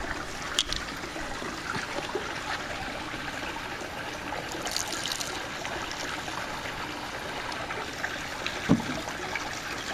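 CV700 polyquat pool chemical being poured from a bottle, a steady close trickle of liquid running for several seconds with a few small splashes, no talking.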